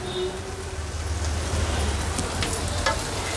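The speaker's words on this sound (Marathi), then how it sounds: "हाय फ्लेमवर ह्याला छान परतून घेऊया।" Drumstick (moringa) bharit sautéed in a pan over a high gas flame gives a steady, close sizzle and crackle, with faint stirring scrapes and a low background hum.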